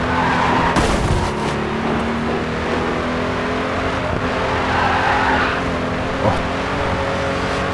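Race car in the racing video game Grid 2 sliding and skidding with a steady engine drone, tyre scrub rising around the start and again mid-clip, loud and continuous with no talking.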